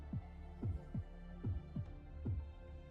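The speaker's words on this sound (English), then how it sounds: "Just listen to that heartbeat." Slow, deep heartbeat thumps in a castle in Fate/Grand Order, arriving in paired beats repeated steadily over a low droning hum with no one talking.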